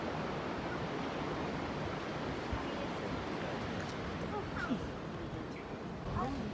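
Sea waves at Byron Bay's harbour give a steady, broad wash of surf with a few faint bird calls, while no voices can be made out.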